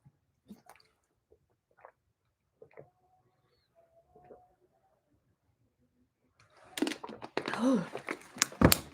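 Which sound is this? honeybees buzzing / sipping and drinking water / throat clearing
sipping and drinking water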